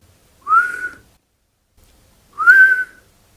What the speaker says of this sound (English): I breathed in, and it kind of whistled.